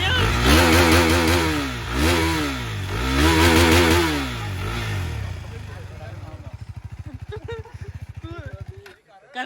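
A sport motorcycle, a KTM RC390 or Yamaha R15, revs loudly and close in two sharp throttle blips, then drops to a steady, lumpy idle before cutting off; voices are heard in the background.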